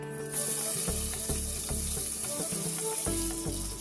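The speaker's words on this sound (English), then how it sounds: "In a heavy bottomed cooker pan, add 2 tablespoons of oil. Now add 1 finely chopped onions" Finely chopped onions sizzle and fry in two tablespoons of oil in a heavy-bottomed cooker pan, a steady loud crackle under repeated stirring knocks from a spoon, close up, no speech.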